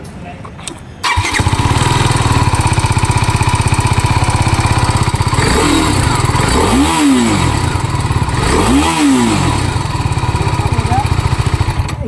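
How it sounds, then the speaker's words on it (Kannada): A BMW G310 RR motorcycle starts up and settles into a loud, steady exhaust idle close by, with two quick throttle blips that rise and fall in pitch. "ಈ ಗಾಡಿದ ಎಕ್ಸಾಸ್ಟ್ ಸೌಂಡ್ ತೋರಿಸ್ತೀನಿ ಬರ್ರಿ"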